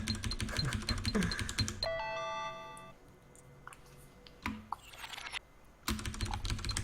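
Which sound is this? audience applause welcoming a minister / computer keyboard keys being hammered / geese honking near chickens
computer keyboard keys being hammered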